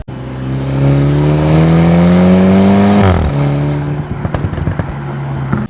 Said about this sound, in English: This bass trim Z4 also gets the pops and crackles from the exhaust, and I am going to let you have a sound bite right now.